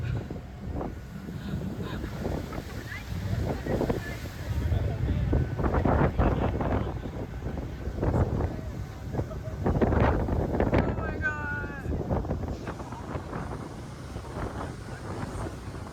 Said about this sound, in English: I didn't know boats could be this windy.